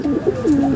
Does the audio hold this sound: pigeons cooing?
yes